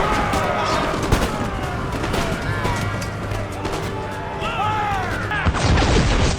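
Musket volleys from the Black Watch in Empire: Total War crackle in dense, overlapping rolls of gunfire over a constant din of battle and shouting soldiers, loud and continuous throughout.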